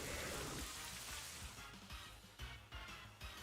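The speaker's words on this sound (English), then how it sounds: "Here's Rain Dance." Rain Dance rain effect from a Pokémon video game battle: a steady wash of falling rain that fades in intensity partway through, leaving a softer patter with a few low thuds, heard faintly in the background.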